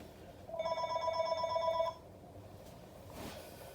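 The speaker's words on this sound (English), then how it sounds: "Phone's ringing." A telephone rings nearby with one sustained electronic ring lasting over a second, then stops; quiet room tone and a faint thump follow.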